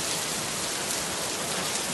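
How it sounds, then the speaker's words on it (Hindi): Heavy pouring rain falls at night in a steady, dense hiss that fills the whole stretch, loud and unbroken, with no voices. "तेज मूसलाधार बारिश की परवाह किए बिना दोनों गाड़ी के पास पहुंचे।"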